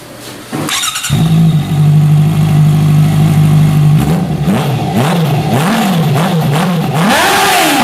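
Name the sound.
Honda CBR650F motorcycle exhaust revving without baffle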